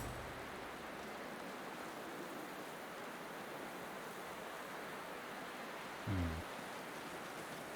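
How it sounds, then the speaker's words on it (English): Video game rain hisses as a steady, faint wash of noise, with a short low thump near the end. "I don't know if I like that it's raining"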